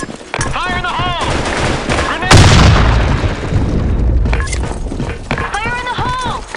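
A grenade bursts with one loud, sharp boom and a rumbling tail in the Black Shot shooter game, amid scattered gunfire, while game voices call out before and after.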